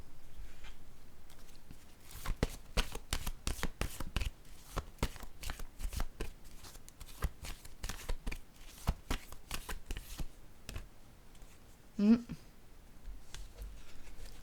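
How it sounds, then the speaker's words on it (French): Playing cards are shuffled in a rapid run of crisp riffling flicks, followed by scattered soft snaps and slides as cards are handled and drawn, close and fairly quiet. "Je vais piger une autre carte."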